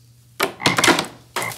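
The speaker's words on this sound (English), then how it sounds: "God is gonna send frogs!" Frogs croak loudly in two bursts as a sound effect, a rasping ribbit followed by a second croak after a short pause, close and clear with no talking.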